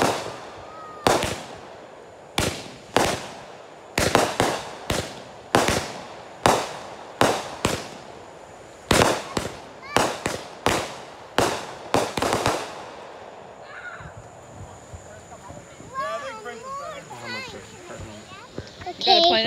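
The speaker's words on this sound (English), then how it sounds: "You won't be able to see much until the fireworks go off." Fourth of July fireworks burst in a loud, fast series of sharp booms. The bangs fade out partway through, and then children's voices and chatter take over.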